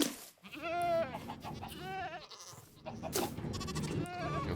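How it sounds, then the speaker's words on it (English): Goats bleating on a Minecraft goat farm, several wavering bleats in quick succession, close and clear. "we also have a goat farm down here"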